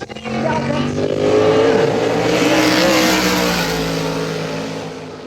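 A race car roars past on a circuit during a qualifying session, its loud engine note sweeping down in pitch as it passes close by, with a commentator talking over the noise throughout.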